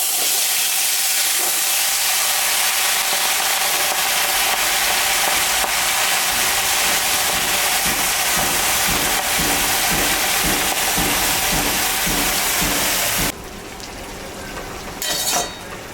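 Taro greens hit hot oil tempered with dried red chili and nigella seeds, setting off a loud, continuous hissing sizzle that cuts off abruptly near the end, leaving faint clinks.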